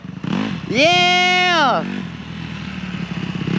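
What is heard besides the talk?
dirt bike engine revving as beginner rides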